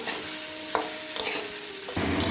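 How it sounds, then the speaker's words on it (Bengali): Ash gourd and rice are sautéed in a pan with a constant sizzle and occasional spoon scrapes and knocks against the metal, close and moderately loud, with no speech. "এবারে ধুয়ে রাখা চাল কুমড়োটা দিয়ে দিচ্ছি আবারও একটু কষিয়ে নেব"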